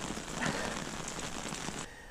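Summer rain falls steadily during a heavy, flooding downpour, a continuous close patter that stops abruptly near the end, with no talk.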